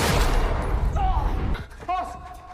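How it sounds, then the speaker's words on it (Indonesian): Gunfire sound effect in a dramatized shootout, loud dense bursts of shots with heavy rumble, then a short pause and a sharper ringing report near the end, with voices mixed in. "Baku tembak kembali terjadi"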